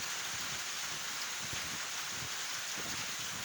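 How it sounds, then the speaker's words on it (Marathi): A steady, moderately faint hiss of unseasonal rain falls continuously in a rural hill area, with occasional soft thumps beneath it. "अकोले तालुक्यातील भंडारदरा, चिचोंडी, बारी, पांजरे, वारंघुशी या गावांमध्ये अवकाळी पावसानं हजेरी लावली."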